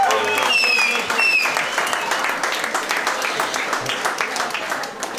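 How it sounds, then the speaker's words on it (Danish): Guests at a 50th birthday party break into loud, sustained clapping that carries on steadily throughout, with a few voices and a brief whistle early on. "Klap lige alle sammen"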